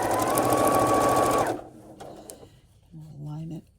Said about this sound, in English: Let's start sewing it.